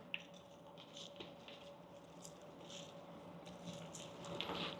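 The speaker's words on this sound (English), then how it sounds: "So we're going to add those to the pot first, right?" Cut, washed collard greens are pushed into a small cooking pot, giving faint soft squishing and rustling with a few light taps against the pot, heard quietly over a low steady background hum.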